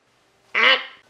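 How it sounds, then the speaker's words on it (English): A duck indoors in a house gives a single loud, nasal quack, close and brief, after a moment of near silence. "Number Bonnie, why is there a duck in my house"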